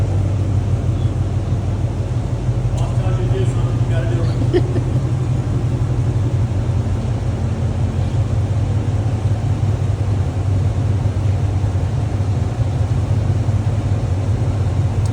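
The engine of a tuned 2018 Camaro runs on a dyno in a loud, steady, deep drone that holds throughout without pause or voices.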